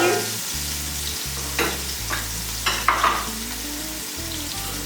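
Green onion and carrot stir-fry in a hot pan for Chinese rice, giving a constant sizzle broken by scraping and clattering utensil strokes, close and clear with no voices.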